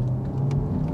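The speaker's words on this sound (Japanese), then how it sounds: "この車両からこの e スポーツサウンドですね" Inside a Porsche Taycan Turbo S electric car, the synthetic electric sport sound plays through the speakers as a steady low, humming drone with a faint whirring layer, close and moderately loud.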